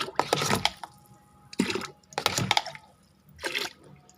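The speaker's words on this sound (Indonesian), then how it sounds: "Kita bisa berikan airnya." Water poured onto garden plants comes in four separate splashing bursts, each a second or so long, close and fairly loud, with quiet gaps between them.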